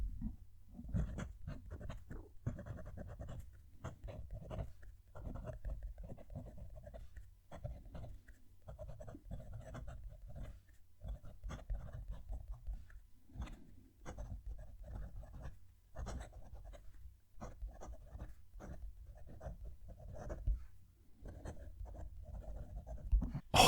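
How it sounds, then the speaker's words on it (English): A Jinhao 82 demonstrator fountain pen scratches across paper close up, with irregular strokes and short pauses as words are written, faint but clear and uninterrupted by speech. "I'm going to move the mic down to the page so you can hear the pen writing"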